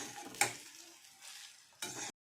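Kanda poha, flattened rice with onion, is stirred and sautéed in a pan: a sharp scrape, a soft sizzling shuffle, then a second louder scrape before it cuts off.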